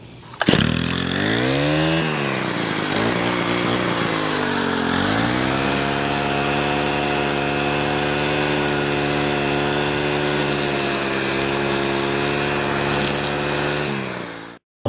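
A gas string trimmer cuts grass close by, its small engine revving up and dipping in a few quick surges before holding a steady, loud high whine for about ten seconds, then cutting off abruptly.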